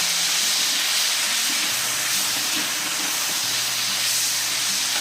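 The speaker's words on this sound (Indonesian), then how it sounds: "kita masukkan tauco. Tumis sebentar biar dia agak harum." Fermented soybean paste (tauco) stir-frying in a hot pan, a loud, steady hiss and sizzle running throughout, close and uninterrupted, with no talk.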